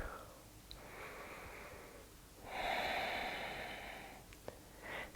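Big, slow yoga breaths through the nostrils, one drawn-out airy inhale followed by a longer, louder exhale, close and soft with no talking.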